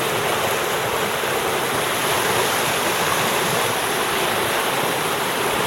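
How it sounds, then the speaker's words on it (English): A flooded creek turned into a raging river rushes loudly and continuously, a dense, steady roar of churning water close to the microphone with no voices. "this has turned into a raging river of sorts"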